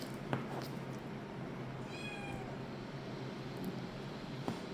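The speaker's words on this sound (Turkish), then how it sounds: "Orada bir tane sokak kedisi vardı da." A street cat meows once, a short rising call heard at moderate distance over steady background noise, with faint clicks around it.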